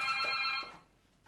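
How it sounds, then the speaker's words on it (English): A telephone rings loud and close in a steady electronic trill for about a second, then stops and leaves near silence before a faint sound returns at the end. "Sorry, that was my phone."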